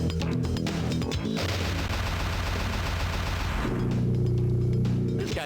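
Video-game gunfire in a Gex streaming session, a dense continuous barrage of shots and blasts under a steady music-like drone, loud and close throughout with no talk.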